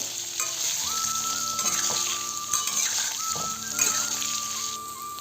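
Soybean chunks with turmeric powder being stirred in hot oil in a pan, a continuous bright sizzle close by with scraping stir sounds and a faint steady tone behind.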